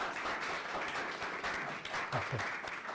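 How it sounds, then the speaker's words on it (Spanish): Steady applause from an audience honouring guest speakers after a lecture on Aztec temples, a continuous even wash of clapping heard from some distance at moderate level. "Un fuerte aplauso para nuestros invitados."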